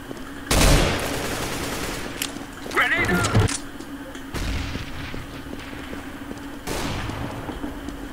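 Grenades go off in a Counter-Strike match: a loud deep blast near the start, then a second burst and later booms of varying strength, with a steady game hum beneath and some talk mixed in.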